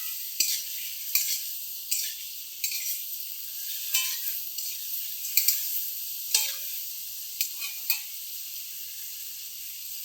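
Fish and stewed taro stalks stirred in a hot pan, a steady faint sizzle with soft scraping strokes of a spoon landing every second or so, no voices.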